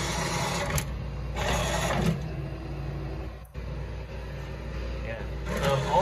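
An automatic drive-thru window's motor, struggling, gives a steady low mechanical hum and whir with brief surges and a short dip midway, while a person talks over it.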